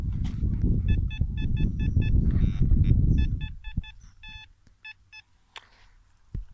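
Quick bursts of short electronic beeps from a phone repeat in rapid groups, first over loud rumbling wind or handling noise and then in near-quiet.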